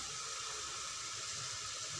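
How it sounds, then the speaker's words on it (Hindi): Water is poured into a pot of bottle gourd curry after the gourd has been fried and mixed. It makes a steady, soft splashing pour that runs evenly throughout with no talking. "पानी ऐड करेंगे।"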